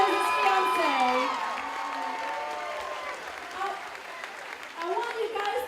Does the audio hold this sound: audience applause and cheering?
yes